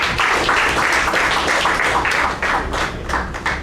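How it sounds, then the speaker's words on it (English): Audience clapping at the end of a club meeting, a busy patter of hands with some uneven taps and thumps, fairly close and continuous, no talking. "give a big round of applause to Just One"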